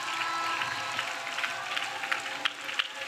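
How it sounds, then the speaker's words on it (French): A congregation applauding Jesus Christ during a church service, steady crowd clapping with a few sharper claps standing out, continuous and moderately distant throughout. "Clap to Jesus Christ."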